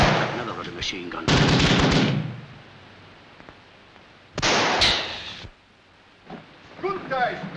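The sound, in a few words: machine gun firing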